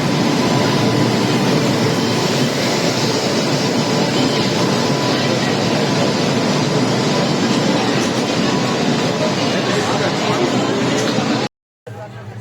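A train rolls into a station platform with a loud, steady rumble and clatter of rail cars that runs unbroken for about eleven seconds, then cuts out briefly; voices murmur underneath.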